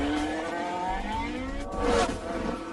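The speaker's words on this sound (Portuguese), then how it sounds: "O resultado, o Porsche 918 Spider." A Porsche 918 Spyder hybrid sports car engine roars loudly and steadily, its tone rising gradually as it accelerates, with a brief surge near the end.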